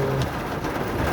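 Heavy rain pours steadily in traffic on a flyover in Manila, a dense, unbroken hiss of downpour on surfaces that holds loud and constant throughout, with no voices.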